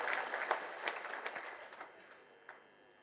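Audience applause at a memorial gathering celebrating a woman's life, a short burst of crowd clapping that fades over about three seconds with a few sharper claps near the end.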